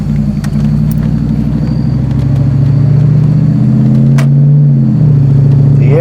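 A Jeep ZJ with a 5.2 V8, cam, air gap intake, big throttle body and dual exhaust drones loudly from inside the cabin, a deep steady rumble whose pitch climbs gradually and then dips near the end.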